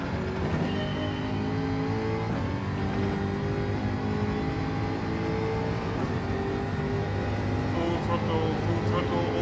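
A racing car's engine roars steadily at full throttle in Gran Turismo 7, loud and continuous throughout, with a droning high-revving tone and no pauses.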